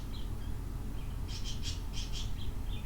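A pet bird indoors lets out a quick run of short, sharp squawks, with a few fainter calls before and after, over a steady low hum.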